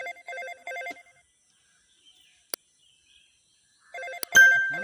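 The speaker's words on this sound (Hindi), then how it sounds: "अब भाई देखो ये फोनवा मिलाई उनके" A phone rings in short electronic bursts, pauses in near silence with a faint click, then rings again alongside a sharp knock.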